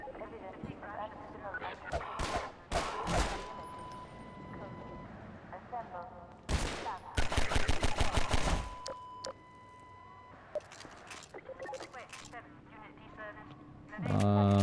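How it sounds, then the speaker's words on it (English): Rapid bursts of mounted gun fire in Half-Life 2, with loud clustered shots in several salvos among other game sounds and a voice talking over parts of it. "Mounted gun."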